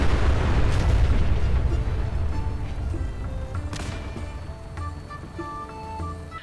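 Mini nuke explosions from a diving bomber in the video game Fallout 4: a heavy opening boom that rumbles and decays, with further bursts behind it and game music rising underneath.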